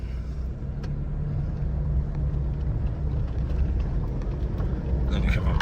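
A vehicle drives over rocky mine tailings, giving a steady, close, low rumble of engine and rolling tyres throughout, with faint scattered knocks from the rough ground.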